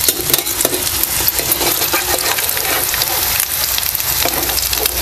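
Potato and besan snacks deep-frying in oil, a loud, dense, continuous crackling sizzle with tiny pops and occasional faint utensil clinks, close up and without speech.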